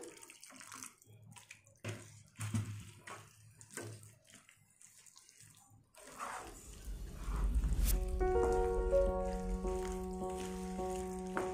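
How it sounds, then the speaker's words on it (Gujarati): Water poured into upma cooking in a pan, a soft gushing splash that starts partway through after quieter stirring and clatter, with a steady hiss continuing to the end. "એમાં હું થોડું પાણી એડ કરું છું."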